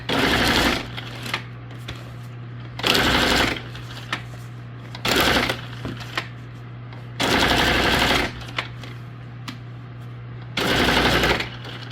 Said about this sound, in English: I'm going to kind of just put a little bit more stitching here in this spot.